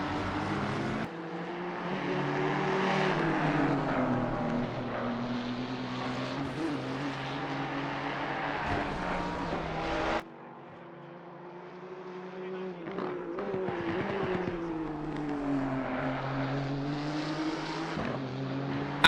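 A Nissan race car engine in a racing video game drones loudly at high revs with shifting pitch, dropping briefly around a gear change or corner before climbing again, with commentary running underneath.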